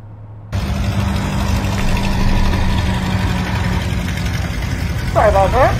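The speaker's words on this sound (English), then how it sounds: "It's a nice steam engine." A steam engine at an outdoor Michigan tractor show runs with a steady, loud low chugging hum throughout, and a brief whistle-like tone rises near the end.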